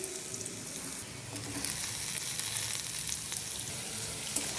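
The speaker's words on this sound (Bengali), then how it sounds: "কড়াইতে আলুগুলো দিয়ে দিচ্ছি" Steady oily sizzling of potatoes frying in a wok, a dense hiss running throughout with faint clinks, no voices.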